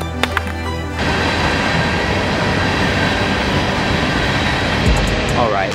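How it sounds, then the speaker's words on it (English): A train rolls past at close range as a loud, steady rush of rail and wheel noise that takes over after a second of quieter outdoor sound, with a brief squeal near the end. "All right, let's take a small break while the train is coming."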